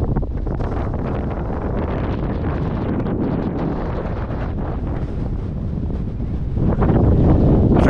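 Strong wind in County Kerry, Ireland, near Glencar, buffeting the microphone in a continuous roar that swells louder toward the end, with no voices.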